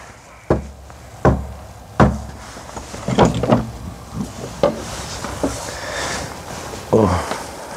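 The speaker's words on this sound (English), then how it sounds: "Very old medieval door here." An old medieval wooden door at a small village church opens with several heavy knocks and thuds, then a creaking, rattling swing, all loud and near, with no talk.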